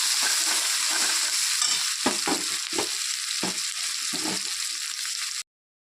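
Chopped onion and green chilies fry in a pan with whole cumin, making a constant bright sizzle with intermittent stirring scrapes before the sound cuts off abruptly.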